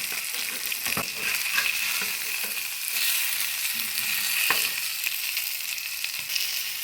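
Fish frying in a pan with curry leaves gives a steady, close hiss of hot oil, broken by occasional louder crackles and spits, with no talking.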